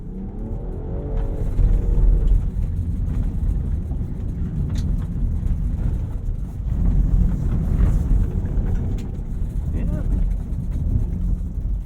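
A 2021 Land Rover Defender 110 in sport mode with traction control off slides on loose ground, its engine a loud, steady rumble that surges at a few points, with wind buffeting the microphone throughout.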